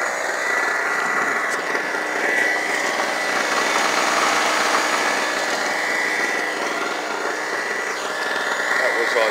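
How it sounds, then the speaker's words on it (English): A portable generator runs steadily at a campsite at Mittry Lake, Arizona, giving a continuous, even engine hum at close range that holds level from start to finish. "Got myself a generator."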